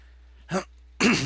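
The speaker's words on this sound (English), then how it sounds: "sorry I keep clearing my throat" Someone clears their throat twice, close up: a short rasp, a brief pause, then a longer, harsher one.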